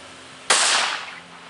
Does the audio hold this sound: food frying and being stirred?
no